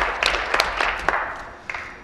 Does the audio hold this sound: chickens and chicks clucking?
no